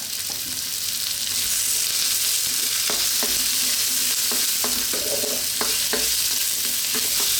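Garlic sizzling in a hot frying pan while ground beef and bean sprouts are cooked, a steady bright frying hiss broken by repeated scraping clicks of a utensil stirring through, close and continuous with no talk.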